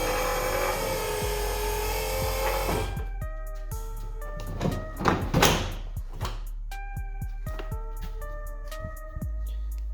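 Power window on a 1978 Chevrolet Monte Carlo lowering with the door panel off, a motor whir followed by a series of clicks and knocks from the door mechanism, close and moderately loud.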